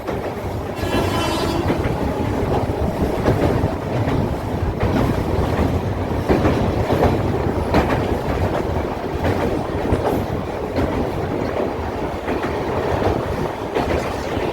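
A passenger train rolls through the Dooars forest country toward the Jaldhaka river, a steady loud rumble of wheels and carriages with rhythmic rail clatter and some wind buffeting, continuous throughout.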